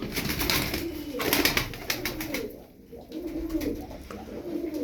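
A flock of Çapar tumbler pigeons cooing together, a steady soft murmur of low coos with some wingbeat-like bursts, fairly close and continuous, with a brief dip in the middle.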